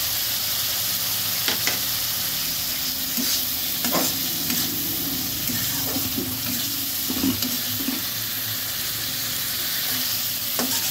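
Tomatoes frying in a pan for rohu fish curry with data and potatoes, a constant close sizzle punctuated by intermittent clinks and scrapes of stirring, with no talk.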